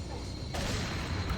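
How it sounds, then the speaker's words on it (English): An explosion bursts in Resident Evil 4 HD, a loud, dense blast that swells midway and rumbles on with rolling low-end debris for the rest of the moment. "Oh god, explosion."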